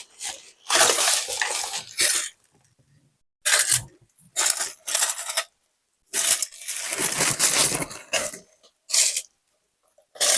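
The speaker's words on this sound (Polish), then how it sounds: "bo mi się szkło wszędzie sypie" Shards of thin broken glass are handled, clinking, crunching and scraping in repeated close bursts separated by short silences.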